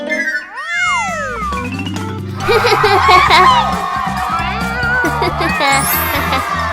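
A cat meows several times with rising and falling cries, close by, while a person asks if it is hungry, and background noise swells partway through.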